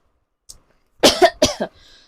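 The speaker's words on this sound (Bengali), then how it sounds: "সরি আজকে একটু কাশির সমস্যা হচ্ছে আর কি" A short burst of two or three dry coughs, close and fairly loud, after a moment of near silence.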